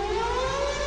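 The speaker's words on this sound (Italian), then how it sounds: "Prima di far intervenire Emanuele, farei partire un intro, la nostra sirena." A siren sound effect plays as a radio show intro, a loud sustained wailing tone that slides slowly upward, short and steady.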